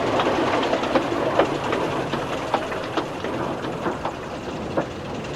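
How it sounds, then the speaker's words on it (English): A train rumbles steadily along the track, its wheels clicking over rail joints in a loose rhythm, close and fairly loud. "coupled up, towing the coaches away down the line"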